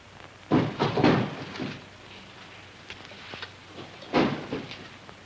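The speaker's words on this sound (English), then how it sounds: "Would you please stop that door from banging?" A door bangs in a quiet room: a quick cluster of hollow knocks, then another single thump a few seconds later, moderately close with little else around it.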